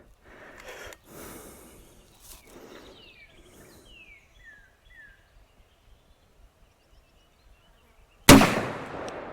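A rifle fitted with a UUQ Aspire ED 1-12x24 LPVO scope fires a single sharp, loud shot at targets near the end, after a quiet stretch with faint rustling and distant bird chirps.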